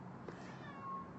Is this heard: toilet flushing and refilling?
no